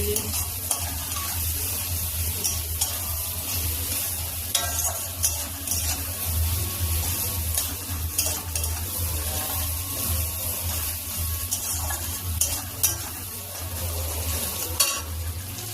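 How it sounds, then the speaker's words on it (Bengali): Onion and green chillies stir-fried in a pan for egg chow mein, a loud continuous sizzle with constant scraping and stirring over a low steady hum, no voices. "পেঁয়াজ, কাঁচা লঙ্কা, ভালো করে নাড়াচাড়া করে নেবো লাল লাল করে।"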